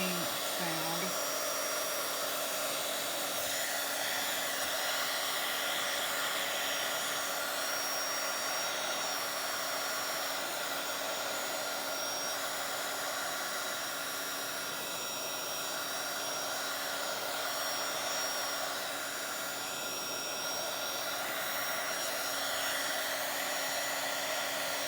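A dryer, apparently a heat tool or hair dryer, runs continuously for about 25 seconds while it dries ink and texture paste on a journal page, giving off a loud, steady, whooshing hiss close by.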